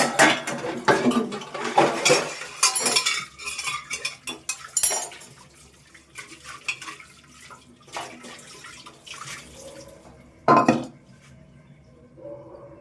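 Dishes and metal utensils are washed by hand under running water at home, with clanking pots, clinking steel and splashing in irregular bursts, quieter rinsing between, and one sharp clatter near the end.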